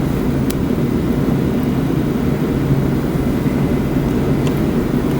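A steady, loud aircraft engine drone from Microsoft Flight Simulator 2020 on a VFR flight to Santa Fe, a constant low rumble throughout with no breaks or talking.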